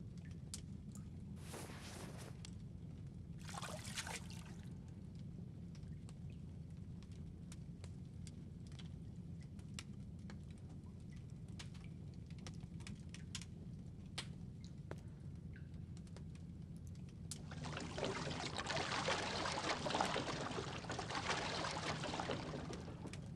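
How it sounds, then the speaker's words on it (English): Laundry is dumped into water near the end, giving a loud broad splashing and sloshing burst over a steady low background rumble, with a couple of brief watery bursts earlier. "I'll just throw it all in the water and it'll be done."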